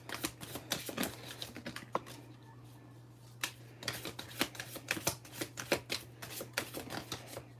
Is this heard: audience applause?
no